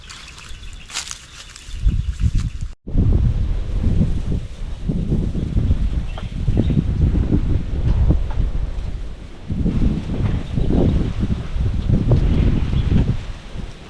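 Strong wind buffets the microphone in loud, rumbling gusts over a bitter gourd trellis, with leaves rustling underneath throughout.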